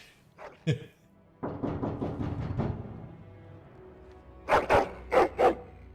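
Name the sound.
dog barking and growling, video game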